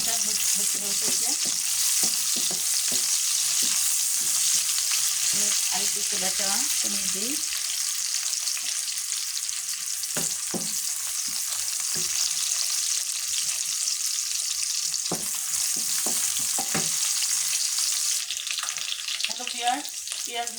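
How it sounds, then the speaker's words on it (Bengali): Onions sizzle steadily in a pan on a stove with cardamom and cinnamon, a constant hissing fry across the whole stretch, broken by occasional stirring scrapes and someone speaking briefly. "পেঁয়াজ ভাজাটা আমার লাল লাল হয়ে গেছে।"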